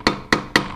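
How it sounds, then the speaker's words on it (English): Three quick, sharp taps from a plastic hammer on main bearing shells seated in a Caterpillar D2 diesel engine block, evenly spaced and close up, each a bright knock with a short ring. "This is where I use my plastic hammer."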